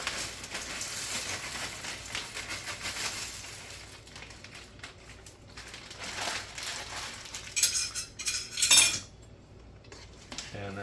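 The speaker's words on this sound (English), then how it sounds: "I'm going to dump the whole bag into the pot." Dry Amish egg noodles rattle and patter as a whole bag is tipped into a metal soup pot, a rustling scatter with a few sharper clinks, close and moderately quiet.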